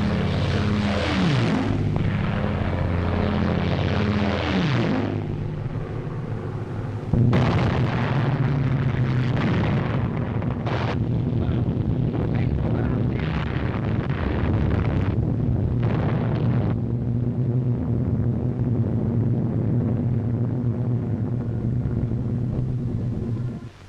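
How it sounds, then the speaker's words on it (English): An RAF bombing raid on a target in German-occupied France: loud, continuous droning of propeller aircraft engines mixed with heavy, rumbling explosions throughout. "We'll have to get the RAF to bomb it."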